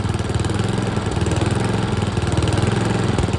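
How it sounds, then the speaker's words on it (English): Troy-Bilt Tomahawk Pro wood chipper engine with a carburetor fault, running close and loud with a steady throbbing note that rises and falls unevenly as it surges. "We've got a surging problem with our Troy-Bilt Tomahawk Pro Chipper."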